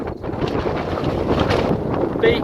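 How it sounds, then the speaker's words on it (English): Gusty seaside wind at Sheringham beach buffets the microphone in a continuous, roaring rush, loud and close, with no voices. "Beach, sea, a bit windy."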